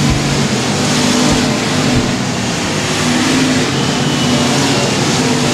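Race cars circle the dirt track at Sabine Speedway, filling the air with a loud, continuous roar of engines. Overlapping revving and high-pitched motor drone hold steady throughout, with no talk over it.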